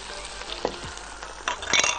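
Garlic and mushrooms frying in a pan, a steady close sizzle broken by a few scraping stirs and clatters near the end, without speech.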